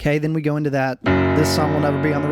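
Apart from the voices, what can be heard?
None of the usual background noises is heard.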